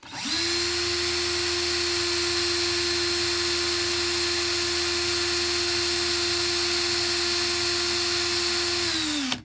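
A power drill twisting core wire whirs at a steady high pitch for several seconds, running continuously and close by before spinning down at the end.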